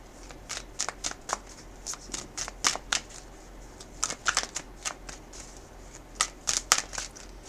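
A Ram Oracle card deck is shuffled in a series of crisp riffling bursts, close and clear, with brief pauses between groups of shuffles over quiet background.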